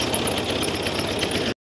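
Old Fiat tractor diesel engine running in Sindh, a dense, loud, steady mechanical roar with rapid clatter, close by, ending abruptly.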